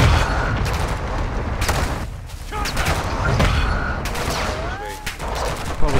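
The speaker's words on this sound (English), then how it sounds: "Oh, he's shooting!" Enemy gunfire in a shooter video game against bots, bursts of rapid shots rising and falling amid game effects, loud and close, with a brief quieter gap midway.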